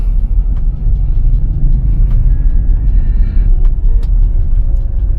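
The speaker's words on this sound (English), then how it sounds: "so he's going to drive down this little walkway" A car rolls slowly down a narrow walkway toward a beach at Uluwatu, Bali, its low engine rumble loud and close and steady throughout, with faint clicks and rattles above it and no talking.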